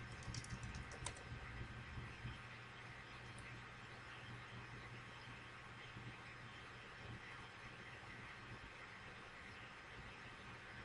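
Light tapping on a computer keyboard, faint and distant under a steady low background hum, with a cluster of keystrokes near the start and then sparse taps.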